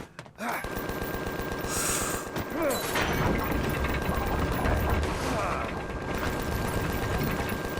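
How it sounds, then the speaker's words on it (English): Gatling gun fire in an anime episode, a dense rapid mechanical rattle of shots that runs loud and continuous for several seconds, mixed with a gasp and other soundtrack noise. "A Gatling gun?"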